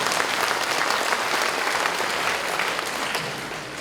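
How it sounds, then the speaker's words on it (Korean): Sustained applause from a large audience at a Confucian leaders' convention in Gyeongju, a thick, even roar of clapping that stays strong throughout and eases only slightly near the end. "정말 감사드리는 의미에서 성원의 박수 다시 한번"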